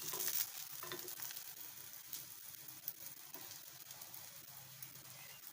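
Nigerian pancake batter fries in a hot pan with a steady, close broadband sizzle and crackle, running continuously throughout with small pops and no talking.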